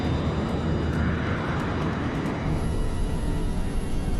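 An Embraer E190 airliner takes off with a loud, steady broadband engine roar that stays close and constant throughout, with no talk over it.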